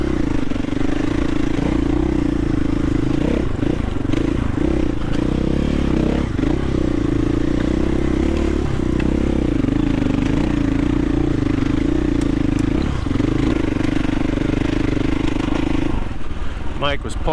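A dirt bike rides a singletrack trail, its engine droning steadily and close throughout with clattering and scraping bumps, then dropping off near the end.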